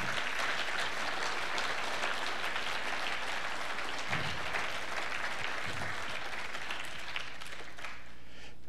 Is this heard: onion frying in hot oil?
no